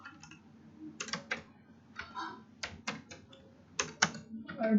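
Computer keyboard typing while writing code, irregular bursts of crisp close keystrokes with short pauses between clusters, quiet room, no speech.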